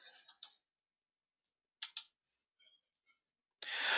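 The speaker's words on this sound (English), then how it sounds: "I type in Zoe here and I search" Keys tapped on a computer keyboard while entering a search, a few brief bursts of clicking separated by quiet gaps, then a steadier hiss at the end; no voices.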